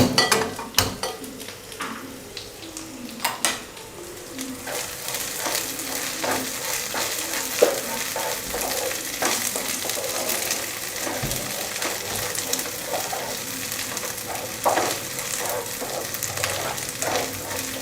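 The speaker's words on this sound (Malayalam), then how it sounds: "നമുക്ക് ഗോപി ഒന്ന് ഫ്രൈ ചെയ്തെടുക്കാം. ചില്ലി ഗോപിയുടെ മസാല നമ്മൾ നേരത്തെ ഇട്ട് വെച്ചത് ഒന്ന് ഫ്രൈ ആക്കി എടുക്കാം." Chilli gobi, cauliflower coated in masala, sizzles steadily in a pan for the whole stretch, with occasional stirring scrapes and clinks of a utensil against the pan, and no talk.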